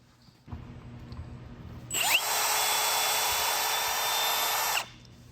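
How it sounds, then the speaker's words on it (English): A powered piloted reamer cuts through a cylinder bore in a small-block Chevy engine block, a loud, steady, high whine lasting about three seconds that starts abruptly over a low shop hum and cuts off cleanly. "we have these reamers, super high end, really nice piloted reamer, and these things work like a dream"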